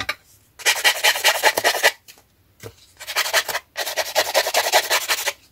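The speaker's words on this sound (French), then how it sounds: "En fait là je viens limer les bords de façon à ce que l'encre pénètre un petit peu plus dans la carte." Card edges being filed for distressed scrapbooking, three bursts of dry rasping strokes close up, each a quick run of scrapes separated by brief pauses, with no talking.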